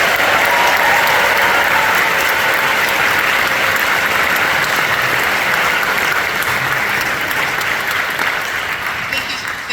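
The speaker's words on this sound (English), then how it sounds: "Y'all give Miss Sarah Labovitz a big round of applause." Audience applause after a junior high all-region band performance, a dense, steady clapping from a large crowd that fills the whole stretch and tapers slightly at the end.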